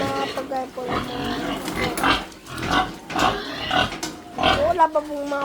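Pigs on a farm grunt and oink loudly and close up in a steady, overlapping chorus, with squeals rising now and then as a voice talks among them.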